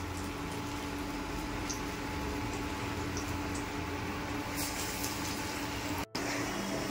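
Pieces of dough frying in hot oil, a dense continuous sizzle and bubbling crackle that fills the whole stretch, close by, with one sharp brief dropout near the end and no talking.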